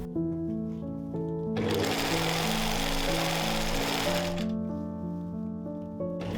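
A sewing machine stitches a seam through a big tulle skirt, running as a fast, steady mechanical whir for about three seconds. It is set against a sustained droning, buzzing tone that continues before and after the stitching.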